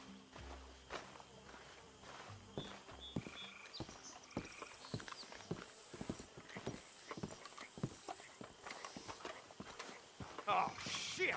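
Horses clip-clop in the video game Red Dead Redemption 2, with a steady stream of hoof and footstep impacts, some close and some softer, amid faint insect chirps and brief game tones.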